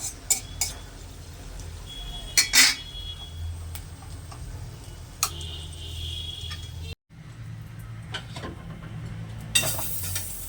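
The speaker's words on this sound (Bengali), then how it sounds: "খিচুড়ির মধ্যে ফোড়নটা দিয়ে দিচ্ছি" A garam masala tempering is poured into vegetarian cauliflower khichuri, giving a sustained sizzling hiss mixed with stirring and pot clatter, a few sharp utensil knocks, and a brief silent gap partway through.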